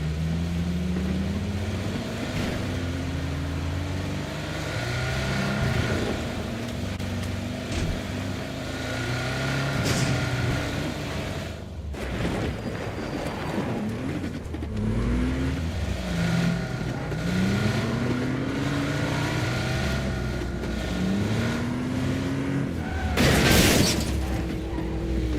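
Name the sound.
Porsche car engine driving, from video game PUBG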